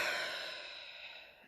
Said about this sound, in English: Some of the modalities that I use is deep breathing.